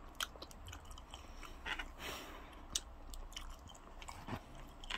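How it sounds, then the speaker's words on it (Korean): Close, quiet chewing of pizza with garlic sauce, with soft irregular crunches and wet mouth sounds repeating over a few seconds, no talking. "일단 피자 냠냠 맛있어요."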